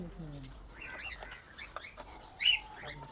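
Cockatiels and doves calling inside a large open aviary in Karachi, with scattered short chirps and tweets at moderate distance and a brief louder call near the end.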